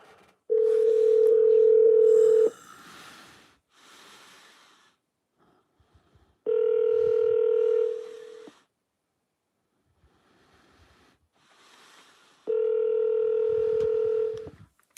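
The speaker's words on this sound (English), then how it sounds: "Alexa, call Double K" Three long, steady dial tones ring out over a phone call placed through an Alexa smart speaker, each burst lasting about two seconds and separated by quiet gaps, clear and close with no speech.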